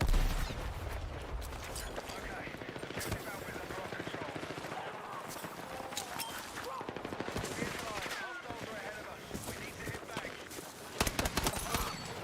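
Pistol gunfire from a 1911 in the Battlefield 6 battle royale video game: sharp shots and bursts of rapid gunfire over dense battlefield noise, loud and close, with a voice talking over parts of it.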